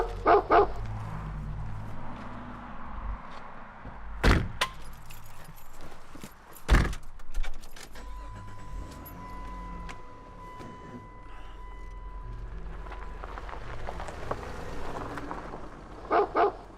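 Puppy barking and yipping in short, sharp bursts amid scuffling and jangling keys, with a few louder yelps scattered through a background that is otherwise fairly busy.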